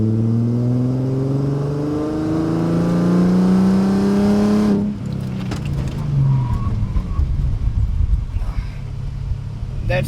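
A Mercedes SLK32 AMG with upgraded lightweight brakes pulls hard through rising engine revs and gear changes, then drops off sharply as it brakes, leaving rumbling road and tyre noise with scattered knocks, heard from inside the car.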